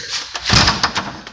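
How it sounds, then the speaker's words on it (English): A door being pushed closed on a windy day: a soft sweep followed by a firm thud of the door shutting, then small rattles and clicks, close by and brief. "So let me just go ahead and close this door again."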